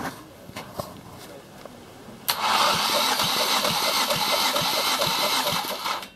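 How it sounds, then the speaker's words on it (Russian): Ford Focus II 2.0-litre petrol engine cranking on the starter for a compression test, a steady rhythmic churn of loud, even compression pulses that starts abruptly partway in and runs to the end, with faint faster ticks beforehand. "Замер компрессии, двигатель Ford Focus 2, 2 литра"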